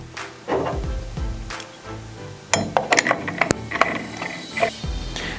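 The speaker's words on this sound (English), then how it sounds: "Grab the blade and tighten the tool-free arbor screw, then flip the tab down." Tool-free arbor screw being tightened by hand on an AGP CG150 groove cutter, giving a string of close, crisp ratcheting clicks and light metallic clinks in uneven bursts.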